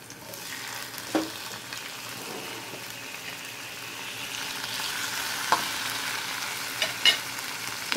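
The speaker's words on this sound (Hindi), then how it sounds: "इसको भी थोड़ा सॉफ्ट होने तक भूनूंगी।" Tomatoes fry in a pan for chutney, giving a soft, steady crackling sizzle with a few faint pops and stirring clicks, fairly quiet and with no talking.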